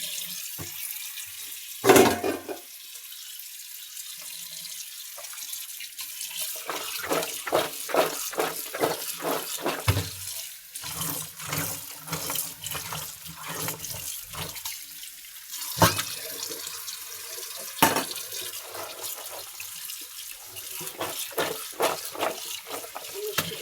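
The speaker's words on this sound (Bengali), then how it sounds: "মিষ্টি কুমড়া ভালো করে পরিষ্কার করে ধুয়ে নেওয়া হয়েছে।" Tap water runs into a kitchen sink while pumpkin pieces are washed by hand, a steady splashing stream broken by clatters and knocks of handling.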